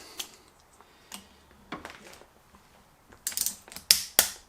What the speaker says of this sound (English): Torque wrench again, 10 Newton meters again.